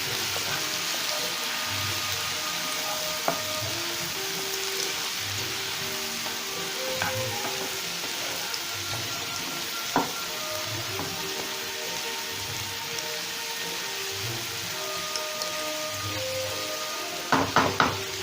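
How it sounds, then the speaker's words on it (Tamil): Horse gram fries in a pan after being boiled with salt, giving a steady, soft sizzle throughout with a few faint clinks of a utensil near the end; no talking. "நல்லா ஃப்ரை பண்ணிட்டு நம்ம இறக்கிடலாம்."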